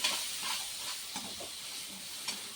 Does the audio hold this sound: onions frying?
yes